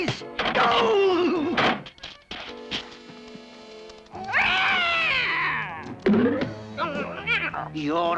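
Cartoon cat meowing and caterwauling in loud, stretched wails with shifting pitch, several bursts across the span, mixed with a background score and a brief knock.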